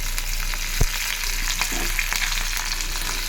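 Chopped onions and green chillies fry in a pan with a steady, close sizzle, mixed by occasional spoon scrapes and one sharp knock.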